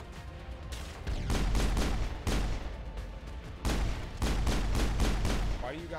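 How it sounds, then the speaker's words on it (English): Rapid machine gun fire in the video game Mass Effect, loud sustained bursts of automatic shots with explosive thumps, broken by short gaps and layered with game sound. "Why do you guys have machine guns?"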